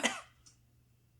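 A single short cough in a game-show style comedy scene, close and fairly quiet, followed by a faint second rasp and then near silence.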